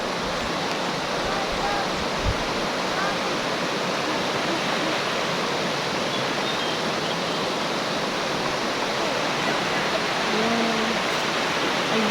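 River water rushes over rocks in a steady, loud, broadband wash that stays even throughout, with faint voices barely emerging beneath the constant flow.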